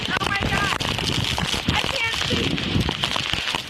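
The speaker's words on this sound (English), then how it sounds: "making landfall as a Category 1 hurricane around 1:30 a.m. Eastern Time, dumping torrential rains" Heavy rain from a Category 1 hurricane making landfall pours down in a steady, dense roar with a voice talking over it.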